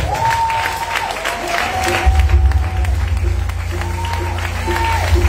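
A church congregation applauds and cheers in a steady, sustained wash of clapping at a worship service, with a low rumble and a voice-like tone rising over the crowd.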